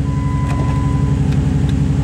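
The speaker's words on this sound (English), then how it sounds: "I love hearing that engine." A 2008 Jeep Grand Cherokee SRT-8 V8 engine running steadily nearby, a loud, even low rumble with a faint high whine and no talking.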